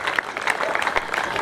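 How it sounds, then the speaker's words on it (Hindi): Brief burst of crowd clapping at a 2014 cricket final ceremony as the captain receives an award, dense and steady with some voice mixed in. "जरा जोरदार तालियां हो जाए इस बात के लिए"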